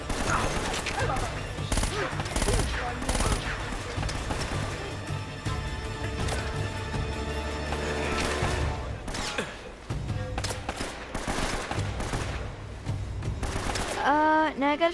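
Enemy gunfire in the Uncharted: Drake's Fortune game crackles as repeated bursts of shots and impacts over game music and effects, running nearly throughout at moderate loudness.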